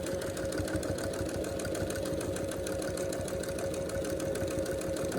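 A sewing machine stitches down the folded edge of a fabric face mask, a steady rapid mechanical chatter with a constant motor hum running unbroken throughout, close and even in level.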